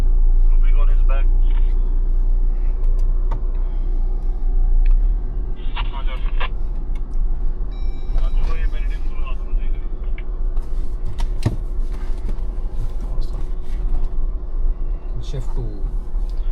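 A 2024 Jeep Wrangler Rubicon pulls away in drive on a trail, its engine a steady low rumble heard from inside the cabin, with rattles and light knocks over it and a voice talking at times.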